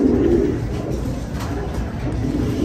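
Racer pigeons coo softly at night, a low, steady murmur of calls heard close by over faint background noise.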